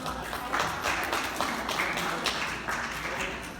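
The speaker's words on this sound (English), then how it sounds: "Let's give her a round of applause." An audience applauds a performer in a steady, continuous wash of many hands clapping, moderately loud and slightly distant, with no voices heard.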